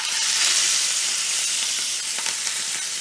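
Chicken breast sears skin side down in hot neutral oil, a steady bright sizzle and crackle of frying fat close by, continuous with no voices.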